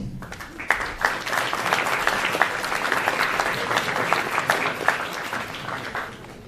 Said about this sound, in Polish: To wielkie brawa dla osób wyróżnionych w kategorii malarstwa.